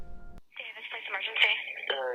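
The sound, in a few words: telephone call to police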